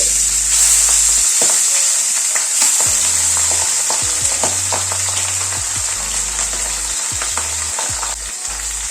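Loud, steady sizzling of pabda fish frying in hot mustard oil, a continuous crackling hiss with occasional scrapes and knocks of a utensil, close up.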